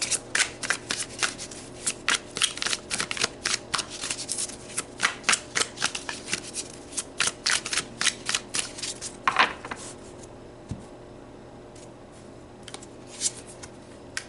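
Tarot cards are shuffled close up in a quick series of crisp riffling flutters and taps, loud and rhythmic at first and then thinning out toward the end, with no talking.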